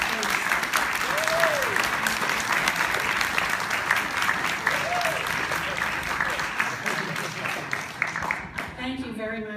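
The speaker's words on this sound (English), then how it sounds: "Let's give all of our candidates a round of applause" Sustained audience applause for candidates at the close of a local political debate, dense and steady throughout, with brief speech over it and the clapping thinning at the very end.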